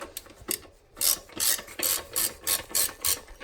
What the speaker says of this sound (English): we're going to go ahead and just loosen up those bolts on the side of the toilet